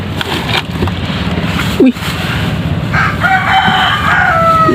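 Rhode Island chickens in a backyard coop where eggs are collected, with a rooster crowing over steady clucking and bird chatter, fairly close and continuous throughout.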